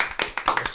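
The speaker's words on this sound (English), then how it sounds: "With the applause and the clapping hands, it felt like there was more people applauding than just three" A few podcast hosts clap their hands in brief applause, a quick, close burst of irregular claps lasting under a second.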